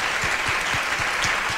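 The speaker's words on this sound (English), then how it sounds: "please say a big round of applause to every single one of them" Audience at a tech panel event in Singapore clapping for the panelists, a short burst of steady dense applause with a few heavier claps standing out.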